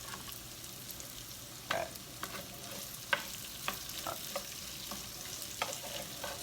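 Potatoes seasoned with pepper and salt fry in a pan over medium-high heat, a steady sizzle broken by scattered pops and the clatter of stirring, with one brief spoken word.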